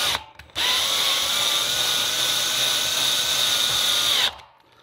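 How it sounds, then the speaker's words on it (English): A power drill drives a screw into a polycarbonate gazebo roof in a garden, a loud steady whine of about four seconds that starts and stops abruptly. "it's a good thing to actually set your torque settings so it's not over screwing, it's putting too much power on that screw"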